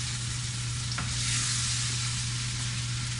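A pan of sautéed tomato and vegetable sauce for gnocchi is stirred over the heat, a steady close sizzle with a soft scraping swirl and a brief knock near the start, no talking.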